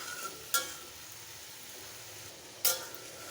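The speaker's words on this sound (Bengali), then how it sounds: "এখন কষিয়ে নেব।" Dried fish vegetable curry being stir-fried, a soft, steady low sizzle with two sharp, brief stirring scrapes against the pan, fairly quiet and close, without voices.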